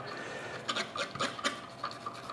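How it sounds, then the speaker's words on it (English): A brush scrubs up inside an espresso machine's grind chute, making close, rapid scratchy strokes in short uneven bursts. "I'm going to run the brush up into the grind chute"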